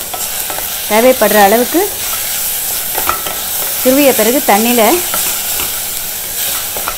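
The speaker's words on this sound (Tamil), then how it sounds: "இதில் உருளைக்கிழங்கை சேர்த்து வதக்கிக்க போகிறேன்" Potatoes sizzle steadily in ghee in a hot pan while being stirred, with a person speaking over the frying.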